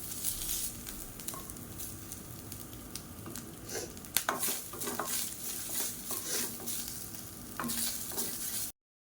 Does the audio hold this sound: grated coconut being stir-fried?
yes